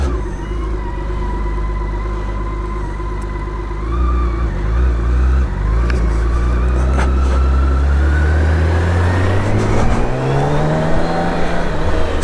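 A BMW K1600 motorcycle being ridden, its steady engine drone loud and close throughout, with the pitch rising smoothly as it accelerates.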